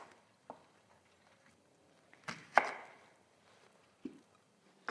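An onion is chopped on a board in a few separate, sharp knife strikes with quiet gaps between them, close and clear.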